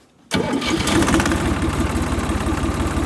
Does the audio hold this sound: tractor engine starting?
yes